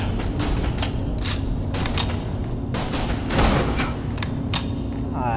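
Gunfire in the shooter video game Borderlands: The Pre-Sequel, a quick run of sharp shots in bursts over a rumbling game backdrop, with mechanical clicks and a louder flurry near the middle.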